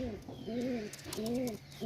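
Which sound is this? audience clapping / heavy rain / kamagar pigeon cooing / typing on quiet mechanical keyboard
kamagar pigeon cooing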